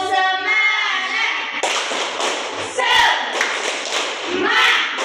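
A class does the 'tepuk semangat' clapping ice breaker in a microteaching session: loud group claps and thumps in a patterned rhythm, mixed with children's voices chanting along.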